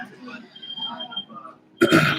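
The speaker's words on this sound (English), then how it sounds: "This guy next to me has been coughing a little bit," Faint airport background chatter, then a single sharp cough from a man bursts out near the end, fairly close.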